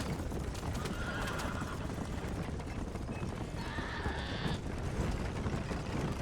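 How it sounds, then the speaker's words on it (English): Horse neighing and hooves clip-clopping in the Western video game Red Dead Redemption, with two drawn-out whinnies rising over a steady patter of hoofbeats and a dense background bed throughout. "Que vaya viniendo mi caballo mientras"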